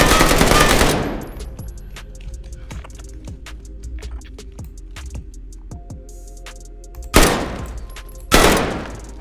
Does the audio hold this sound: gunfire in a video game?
yes